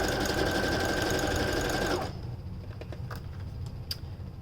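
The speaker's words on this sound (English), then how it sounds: "So I'm sewing on the back side of my fabric." A sewing machine stitches fabric in a close, steady whir for about two seconds, then stops, leaving faint handling clicks and low room noise.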